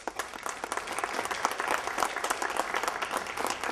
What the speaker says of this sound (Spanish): Nicolás, lo recibimos con un aplauso, por favor.